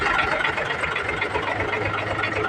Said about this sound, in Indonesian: sekarang saya mau hidupkan mobilnya dulu